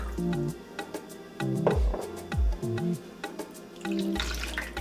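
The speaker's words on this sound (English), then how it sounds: "I'm going to rinse it with a half cup of water." Short bursts of water slosh and splash inside a tomato sauce can as it is rinsed, with brief pauses and a few knocks between pours.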